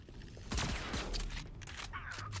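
A gun in a video game fires a rapid burst of loud, close shots in a dense volley, followed by mechanical clatter and smaller game effects.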